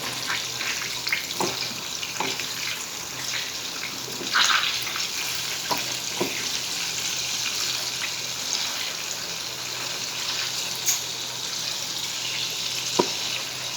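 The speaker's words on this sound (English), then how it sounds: "And now we'll place it in the hot oil." Chapli kababs frying in hot oil, a continuous close crackling sizzle with scattered pops and small bursts throughout, no talking.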